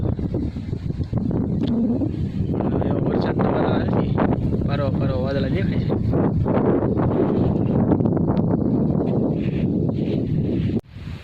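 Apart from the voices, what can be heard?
strong wind blowing outdoors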